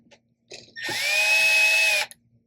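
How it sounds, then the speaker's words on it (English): Power drill backing out captive screws during a MyLevel battery replacement: a soft click or two, then the drill whirs steadily for about a second with a faint whine before stopping. "Right there, you'll hear a click, click, click."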